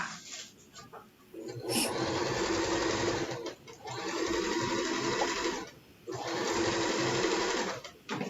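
A sewing machine runs a straight seam on a quilting piece, whirring steadily in three long bursts with brief pauses between, close and fairly loud.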